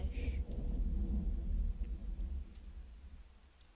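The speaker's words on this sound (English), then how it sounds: "But we're about to drown in all this rain." Heavy rain and rolling thunder from a storm in the video game Tornado Survival, a loud low rumble with steady downpour that fades toward the end, with no talking.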